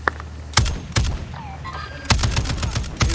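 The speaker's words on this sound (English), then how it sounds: "someone is shooting me" Gunfire from the video game Modern Warfare 2 DMZ: several sharp, loud broadband shots in two bursts, with a brief gap between them and faint background game noise.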